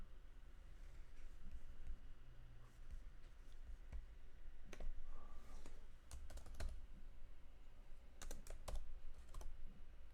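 Keys clatter on a computer keyboard in irregular bursts of quiet clicks, close and fairly soft, with a few sharper taps standing out, no talking.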